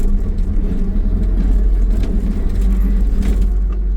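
A Timbco feller buncher's diesel engine rumbles loudly and steadily at close range during a test drive, with faint rattles and clanks from the machine over the low drone.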